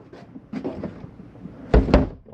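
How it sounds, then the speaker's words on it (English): A shower door snaps shut in the bathroom of a 2018 Winnebago 30RLSS RV, giving a few soft knocks followed by two sharp, loud closing thuds close by. "Shower door is snapped closed."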